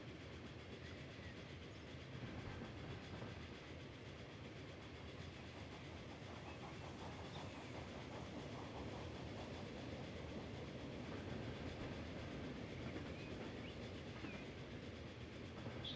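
A train passing in the rail transport simulation game Transport Fever, a continuous rolling rumble with faint clickety-clack of the wagons, steady and moderately quiet throughout with no talk.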